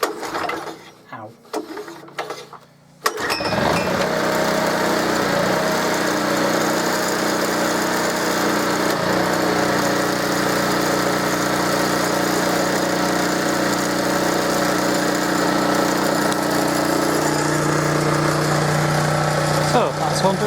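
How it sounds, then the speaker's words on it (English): A Honda EX650 portable generator starts after a few seconds of handling noises, then runs at a steady, loud, even hum with a buzzy high-pitched whine for the rest of the stretch. "Don't need a choke on because it's been running."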